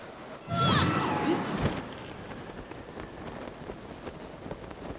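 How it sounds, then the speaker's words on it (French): A whooshing gust of wind in the video game Zelda: Tears of the Kingdom rises suddenly, peaks with a swirling rush, then fades into a low airy hiss that lingers softly. "Babil peut invoquer devant lui une puissante rafale de vent"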